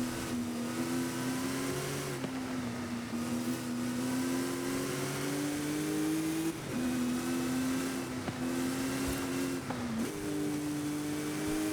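Mercedes SLR race car engine in Forza Horizon 5 holds a steady loud revving drone, pitch rising and falling with brief dips at gear changes around every few seconds, close and continuous with no talk.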